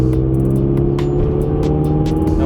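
Mazdaspeed 3 turbo engine revved up from idle in second gear, a steady close droning hum with the pitch climbing as the throttle opens, loud and continuous.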